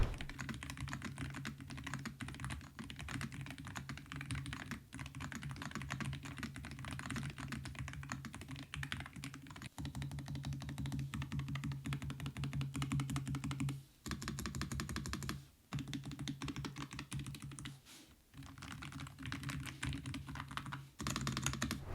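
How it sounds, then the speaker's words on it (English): Continuous rapid typing on a low-profile Hall effect keyboard, soft muted keystrokes in a steady clatter with a few brief pauses, close and fairly quiet. "a true low-profile keyboard that also can sound like a full-size keyboard"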